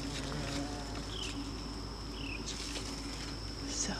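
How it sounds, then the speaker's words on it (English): Large bees buzz steadily around cucumber plants in a garden, a faint continuous drone with brief passes of single bees, over a constant outdoor hum. "I have some big bees doing work"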